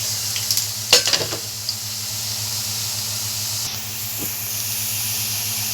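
Garlic sizzling as it drops into frying tomato sauce with potatoes, a steady close hiss with a brief burst of crackle near the start.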